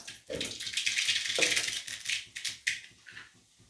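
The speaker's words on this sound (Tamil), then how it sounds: "கடுகு வெடிச்சிருச்சு" Dense crackling and popping of mustard seeds spluttering in hot oil in a pan, continuous with a few louder bursts.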